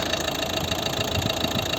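A Volvo V50 1.6 HDi diesel engine from 2011 idles steadily up close, a constant low rumble with a faint knocking clatter and no voices.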